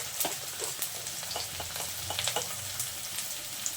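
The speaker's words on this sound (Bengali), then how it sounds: "এখন ভালোভাবে এগুলো একটু নাড়াচাড়া করে নেব" Chickpeas for chola bhuna sizzle steadily in a pan while being stirred, with a dense crackling hiss broken by small scraping clicks from the spoon, close and continuous with no voices.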